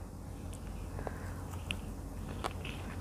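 Someone biting and chewing spicy Thai tilapia larb with sticky rice, pickled garlic and eggplant: soft, close crunching and mouth noises, quiet and steady.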